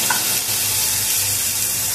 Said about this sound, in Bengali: প্যানের মধ্যে চিকেনটা ভাজা হয়ে যাচ্ছে আস্তে আস্তে